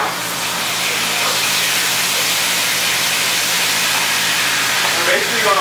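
Salmon fillet searing face down in hot, rippling oil in a sauté pan, a steady loud hiss and sizzle running unbroken throughout with a few crackles near the end.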